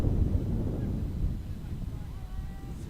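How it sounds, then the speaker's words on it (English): Strong wind gusts batter the microphone at an outdoor college softball game, a heavy low rumbling roar that swells and eases, with a faint tonal squeal in the background. "We literally had to take a break because of the wind."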